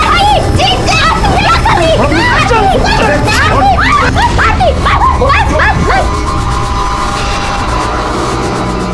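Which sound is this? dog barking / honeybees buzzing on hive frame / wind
dog barking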